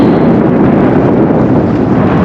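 Loud, continuous wind buffeting the microphone, a deep rumbling roar with no breaks.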